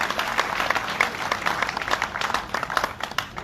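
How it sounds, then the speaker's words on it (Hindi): Applause breaks out at a political welcome event, dense clapping from a sizeable crowd, continuous and fairly close, with no talk over it. "जरा तालियां बजाकर उनका अभिनंदन करें।"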